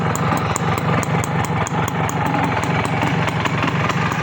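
A CDI motorcycle engine idles close by, loud and steady, with a fast, even pulsing throb and no other sounds.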